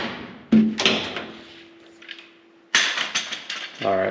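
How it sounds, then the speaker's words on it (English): The door of a Grand Wagoneer is shut close by: a sharp thud with rattling, a quieter stretch with a faint hum, then a second solid slam followed by clicks and a short ringing tone. "Now let me close my door."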